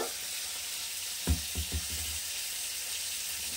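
Fish fries in a pan for a South Indian-style fish curry, giving a steady, close sizzling hiss, broken by a few dull knocks of a utensil against the pan.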